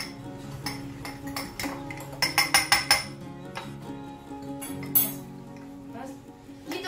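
A metal spoon clinks against a mug while mug cake batter with milk and oil is mixed, with a quick run of four bright ringing taps and scattered lighter knocks, close up beneath a person talking.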